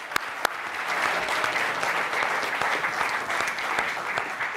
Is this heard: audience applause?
yes